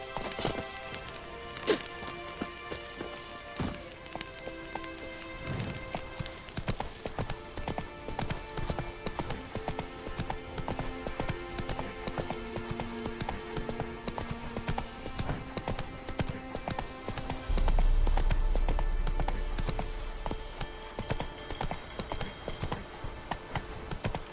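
Horse hooves gallop in The Witcher 3, a steady fast clip-clop running throughout over a dense game soundscape and music, with a low rumble swelling near the end.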